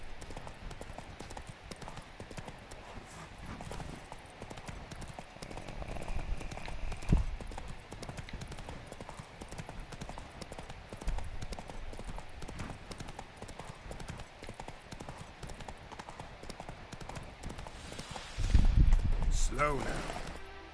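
In a video game, the horse Roach trots along with steady, muffled hoof clip-clops under quiet ambient game sound and a voice talking, and a louder thump comes near the end.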